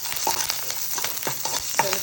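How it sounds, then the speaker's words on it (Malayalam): Dried red chillies and fenugreek seeds fry in a spoonful of coconut oil for pulinkari. A soft, steady sizzle is broken by a few scraping stirs and small pops, with no talking. "ഒരു ടീസ്പൂൺ വെളിച്ചെണ്ണയും കൂടി നമുക്ക് ഈ മുളക് ഉലുവയൊന്ന് വറുത്തെടുക്കണം."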